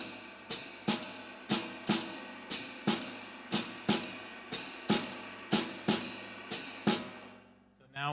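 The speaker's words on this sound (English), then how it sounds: "I'm going to be playing time again in my ride cymbal and hi-hat." Jazz drum kit playing time on ride cymbal and hi-hat with snare comping accents, a steady swung pulse of bright cymbal strikes about every half second, played alone and fairly loud, ending on a quieter trailing hit.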